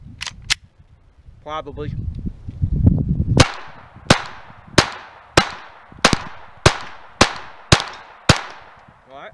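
A Glock 44 pistol fires .22 rounds in a steady string of nine sharp, loud cracks spaced under a second apart, after a brief word from a man and some handling noise.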